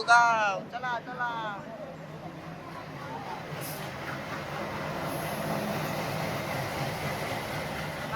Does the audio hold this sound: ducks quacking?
no